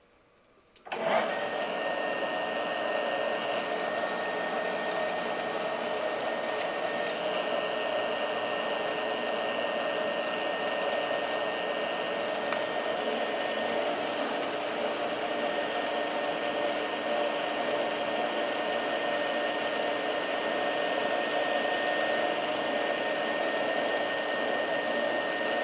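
A milling machine cuts cold rolled steel with a carbide tool during cleanup of a reference surface, giving a steady, loud whirring drone that runs unbroken with a constant high whine and no talk.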